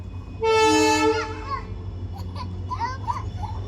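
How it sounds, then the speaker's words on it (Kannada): A train horn blasts loud and sustained at Ginigera railway station as the train pulls in, followed by fainter rumbling and squeals over a steady low hum, with voices chattering in the background. "ಇಲ್ಲೊಂದು ಟ್ರೈನ್ ಬಂತಗ ಅಲ್ಲಿ ಬಂತು ನೋಡಿ"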